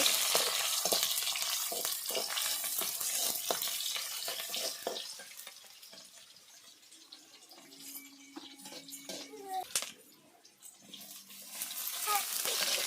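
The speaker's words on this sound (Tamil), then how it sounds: "வெங்காயம் தக்காளி பச்சை மிளகாலாம் நல்லா வந்து வதங்கிட்டுருக்கு" Onions, tomatoes and green chillies sauté in a home kitchen pan with a steady sizzle, broken by scattered spoon scrapes and clinks, one sharper knock near the end, and a faint voice in the background.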